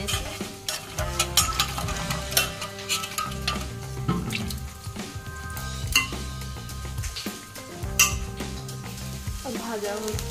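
Food frying in a pan with a continuous sizzle, busy clinks and scrapes of a utensil against the metal, and faint background sounds throughout.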